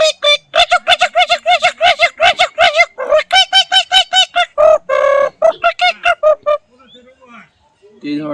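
A human voice imitates a common myna call with rapid, loud, harsh chattering notes in quick bursts, a few pauses between runs, and softer trailing sounds near the end.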